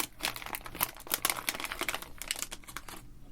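Packaging on a Corsair AX1200i 1200W modular power supply box tears open as its strip is ripped, with a continuous run of crackly, crinkling rips lasting several seconds, close and fairly loud, with no voices.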